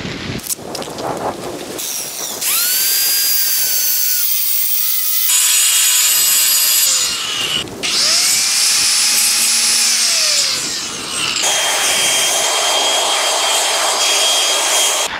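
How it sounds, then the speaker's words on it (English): A power saw cutting a groove across a driveway to bury dog fence wire, a loud, harsh, sustained grinding roar that rises and falls in pitch over several long passes, close and dominant with no speech. "let me cut across my driveway"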